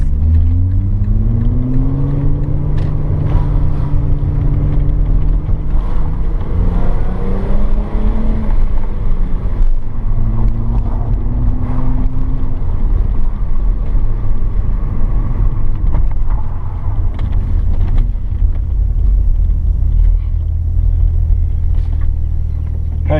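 Engine of a 2001 Audi B5 RS4 BiTurbo Avant rumbles loudly from inside the car as it drives and accelerates through gears, with rising and falling revs over steady road noise.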